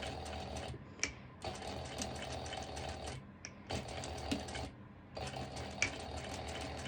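An industrial sewing machine stitches a swimsuit, running slowly in steady bursts of mechanical whirring and needle clatter with brief pauses between runs, close and fairly quiet.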